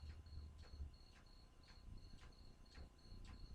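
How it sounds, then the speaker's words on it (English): A cricket chirps outside a house at night in regular, evenly spaced bursts, faint and thin over a low background hum, with no voices. "If you can hear that cricket, this is the best microphone on the planet."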